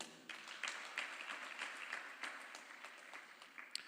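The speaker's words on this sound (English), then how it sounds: "but round of applause for Robert." Audience applause at a journalism and communication school symposium, a steady wash of many clapping hands in a hall, fairly loud and sustained for the whole stretch with no talk over it.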